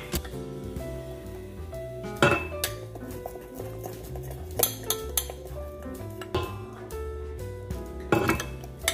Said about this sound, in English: we're going to mix that until it gets nice and creamy